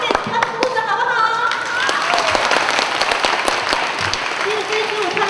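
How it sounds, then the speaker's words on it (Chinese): An audience at a university library week event applauds dancers after their performance, a steady wash of crowd clapping with a voice talking over it. "再次给他们鼓掌好不好"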